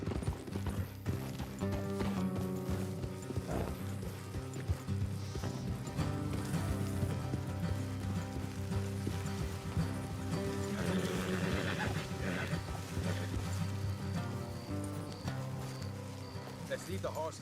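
Several horses gallop with continuous hoof clip-clop in Red Dead Redemption 2, with neighs surfacing under a thick layer of music and game ambience while voices talk over it.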